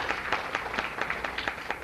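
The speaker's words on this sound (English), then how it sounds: "So if you can give everyone a round of applause," Audience applause after a talk at a Law Society of Upper Canada session on race, courts and tribunals: steady clapping from many hands at moderate level throughout, with no voices over it.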